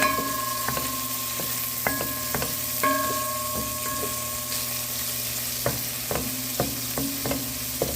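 Onions fry in a pan for Trinidad-style curry chicken, a low steady sizzle broken by repeated metallic clinks and scrapes of a spoon stirring against the pot, close up with no talking.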